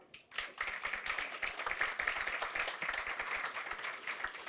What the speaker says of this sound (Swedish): Magnus Dahlstedt, genom en stor applåd.